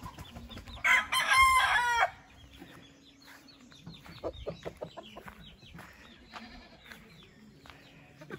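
Four-month-old White Kelso gamefowl roosters in a breeding yard give one loud crow near the start, followed by scattered softer clucks and calls against a quiet farmyard background.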